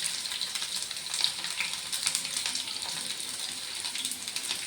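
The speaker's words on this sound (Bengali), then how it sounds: "কড়াইয়ে তেল দিলাম, তেলের মধ্যে দেখো তেজপাতা দিয়ে দেবো" Bay leaves crackle in hot oil in a wok, a fine steady sizzle with light spitting pops, close and fairly quiet, with no talking.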